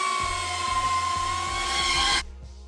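An FPV drone on Flywoo motors with 5-inch or 3-inch props hovering at half throttle, a steady high-pitched whine with a low pulsing hum, close and loud, cutting off abruptly near the end.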